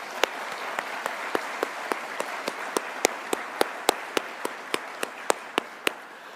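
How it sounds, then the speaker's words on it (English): Audience applause for award nominees at the 2024 Tasmania Australian of the Year Awards: a steady wash of many hands clapping, with sharp, evenly spaced loud claps standing out near the front for several seconds. "Let's give them a round of applause."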